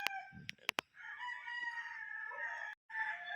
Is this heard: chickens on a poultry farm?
yes